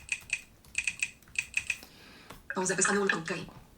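Quick bursts of typing on a computer keyboard while a password is entered, key clicks in short clustered groups, then a denser run of keystrokes near the end, close and fairly quiet.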